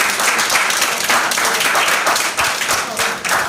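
An audience at a high school debating competition claps for the debaters, a dense, loud burst of applause that holds steady for several seconds before thinning slightly near the end.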